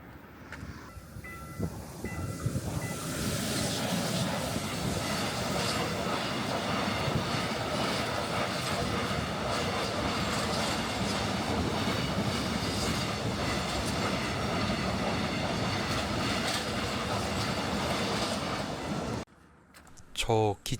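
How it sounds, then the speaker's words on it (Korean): A train rumbles past with steady clattering wheels and rail noise for most of the stretch, fairly loud from an outdoor roadside spot at dusk, fading out near the end. "저 기차 지나가는 것을 찍고"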